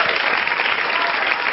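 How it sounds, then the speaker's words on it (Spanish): An audience applauds steadily as a guest named Rodrigo is invited onstage during a Spanish-language show, a dense, even wash of clapping at close range with no pauses. "Give him a round of applause."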